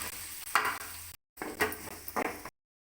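Chopped onion sizzles in butter in a pan for paneer dosa, with bursts of stirring scrapes and a short break in the sound partway through.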